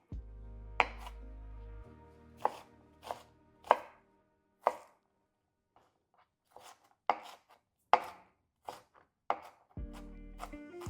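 An onion chopped into small pieces with a knife on a cutting board, a dozen or so crisp separate knife thunks in an uneven rhythm, close and clear, with a few fainter taps between and no talking.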